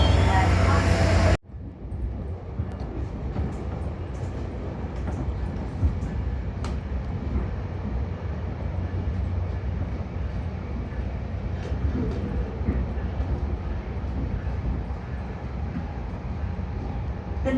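A commuter train heading toward Maitland Station rumbles steadily from inside the car, a continuous low rolling noise after a brief louder opening, with onboard announcements spoken over it.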